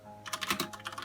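Quick, light keystrokes clatter on a new mechanical computer keyboard, about a dozen clicks in a brief, uneven burst, close and quiet with no talking.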